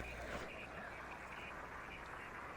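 Frog croaking in the video game Alan Wake 2, faint and low under a steady hiss of background ambience, with a few soft repeated calls and no one talking.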